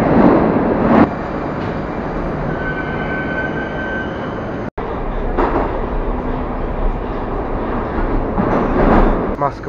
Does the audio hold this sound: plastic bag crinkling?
no